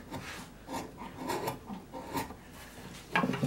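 A Pfeil carving chisel cuts into wood in a series of short rasping scrapes, close and fairly quiet, ending with a louder scrape.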